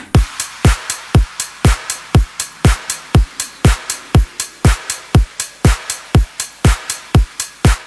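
An electronic dance track drop is built on a steady kick layered with claps, snaps, hi-hats and a shaker. It plays as a crisp, evenly pulsing percussion loop, punchy and upfront, with no voices.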